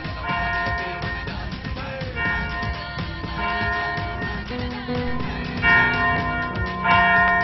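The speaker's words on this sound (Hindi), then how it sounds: "फिर चर्च की घंटी कौन बजा रहा है?" Church bells ring out in overlapping, resonant peals, several strikes blending into a continuous clanging wash with no voices.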